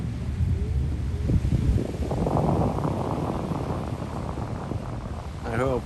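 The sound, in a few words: wind noise on the microphone at the beach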